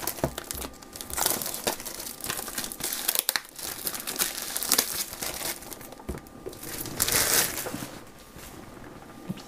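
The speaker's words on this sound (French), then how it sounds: "Et le doux bruit du plastique qu'on déchire." Plastic packaging is torn and crinkled while Beats Studio 3 wireless headphones are unboxed, producing close, uneven bursts of rustling and crackling that swell and fade.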